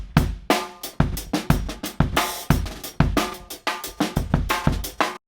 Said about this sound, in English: I prepared a drum loop here. This drum loop sounds like this.